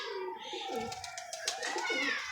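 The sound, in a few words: pigeon cooing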